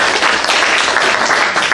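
An audience at an improv comedy show applauds, a steady, loud wash of clapping from a crowd filling the short moment without a voice on top.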